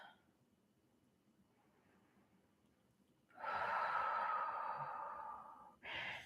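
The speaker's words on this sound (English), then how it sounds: "for this one more big breath in and out" A deep breath drawn in and released during a live yoga flow, a long, loud breathy exhale rising after a quiet stretch and followed by a second short breath.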